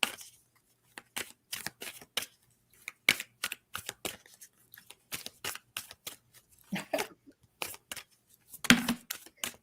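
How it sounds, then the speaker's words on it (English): Oracle cards are shuffled and drawn for a reading: a long run of crisp, papery flicks and riffles in uneven bursts, close and fairly quiet, with brief gaps between handfuls. "I'm going to pull a few cards for you as well."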